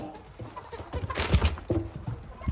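Pigeons on a farm near Edmonton, Canada, give a few low coos, mixed with chicken clucks and shuffling thumps, faint and close with no speech.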